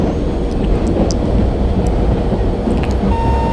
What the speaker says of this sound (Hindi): तो अभी स्लोली स्लोली चल रहा है हमारा लोकोमोटिव।